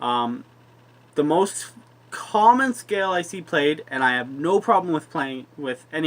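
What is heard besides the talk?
No distinct noise like a dog, phone or traffic.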